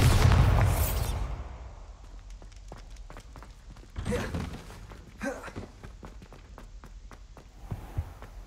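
A Bombarda blasting spell from a Harry Potter video game goes off as a loud burst at the start, fading away, then giving way to scattered soft thuds and footsteps.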